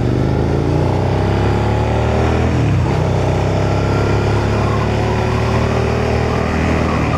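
Suzuki SV650 V-twin motorcycle engine running steadily while riding out of a residential area, a loud continuous drone with a brief pitch dip and rise midway as the rider shifts or eases off, no talk over it.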